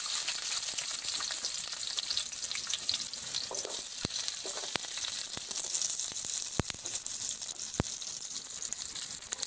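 Prawn kuzhambu base sizzling in a pan with onions, a steady loud hiss of frying with occasional sharp crackles and pops, no talking.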